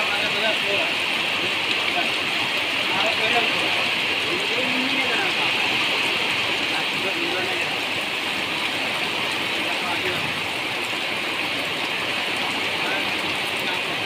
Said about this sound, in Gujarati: શાનદાર વરસાદ પડી રહ્યો છે